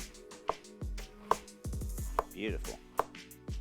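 A knife dicing red chili on a cutting board for a red sauce to go with a pork chop, with sharp, evenly spaced chops roughly one per second, close and crisp, alongside a brief spoken word.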